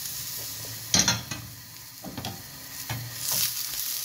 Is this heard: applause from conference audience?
no